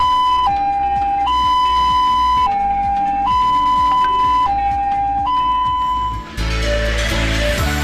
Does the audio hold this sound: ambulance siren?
yes